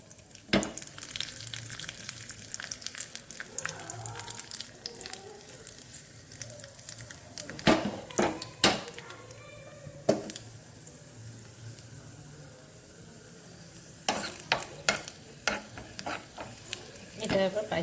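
Cashews and raisins fry in ghee in a small pan, a soft sizzle under repeated clinks and scrapes of stirring, the knocks coming in bursts, fairly quiet.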